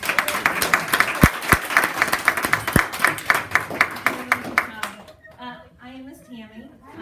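A school showcase audience applauds the girls with a dense patter of many hands clapping and a few sharp louder claps. The applause fades after about five seconds, and a voice then begins speaking.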